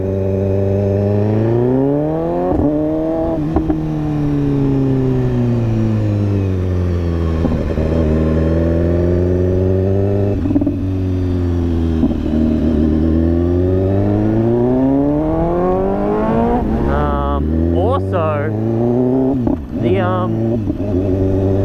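A 2015 BMW S1000RR motorcycle with an SC-Project exhaust revs repeatedly, its loud engine note climbing and falling in long sweeps close by, with brief sharp blips toward the end.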